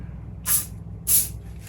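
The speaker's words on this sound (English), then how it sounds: "I'm just using this silicone spray." Two short hissing bursts from a silicone spray can, close up, about half a second apart, over a faint low background hum.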